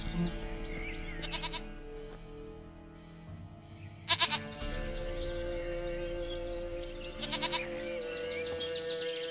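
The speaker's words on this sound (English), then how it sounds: "Goat of mine, dearest, sweetest goat." A goat in The Witcher 3: Wild Hunt bleats in a few short wavering calls over a steady in-game ambient bed of music and outdoor background, with a brief louder burst midway.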